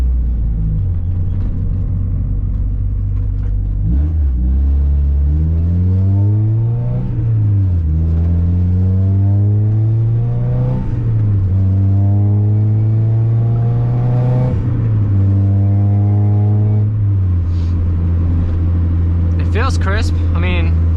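A Mazda Miata NA with a Mishimoto dual-core radiator and coolant reroute is driven, its engine rumbling and revving through several rising gear pulls with shifts between, steady and close inside the cabin while people talk.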